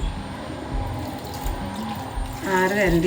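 Boiled and cooled water poured into a pan of garlic pickle mixed with vinegar, a steady liquid trickle that brightens and swells near the end, with some clatter underneath.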